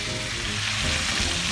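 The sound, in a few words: shrimp frying in garlic butter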